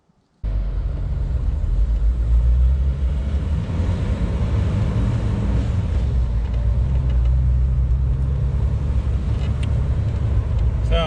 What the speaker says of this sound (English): So I'm taking this thing for one last drive before I start ripping it apart.